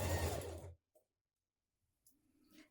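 Sewing machine stitching a blouse sleeve band: a short, close burst of mechanical whirring that stops abruptly, followed by near silence and a couple of faint handling taps.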